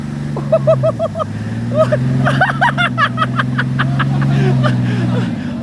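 A farm tractor engine drones loud and steady throughout, while people nearby chatter and laugh over it.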